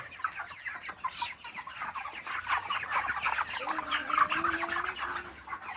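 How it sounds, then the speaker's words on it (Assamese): A dense chorus of many chickens clucking continuously inside a poultry farm in Assam, steady and fairly loud, with a few longer calls rising over the crowd. "এইখন হৈছে মুৰ্গী ফাৰ্ম"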